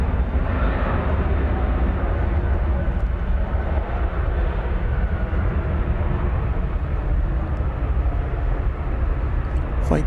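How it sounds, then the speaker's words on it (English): An American Boeing 737-800 at DFW Airport, bound for Tucson, gives a steady low, dull engine rumble at moderate distance, continuous with little change in level. "American 737-800 on its way to Tucson,"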